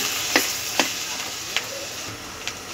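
Tamarind frying in oil for a sweet-sour pickle, a steady hissing sizzle punctuated by a few sharp stirring taps at irregular intervals, close and without speech.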